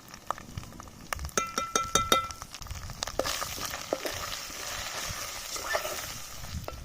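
Onions fry with turmeric in a pan as a spatula clinks and scrapes the metal in a quick run of sharp knocks early on, then settles into a softer continuous sizzle up close.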